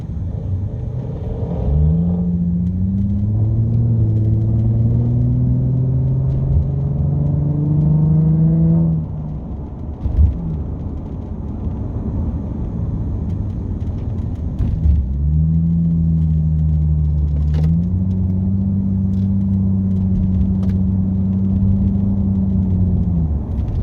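A Toyota Crown with a custom exhaust rumbles nearby, revving in two long rising pulls separated by a lower idle, loud and alone.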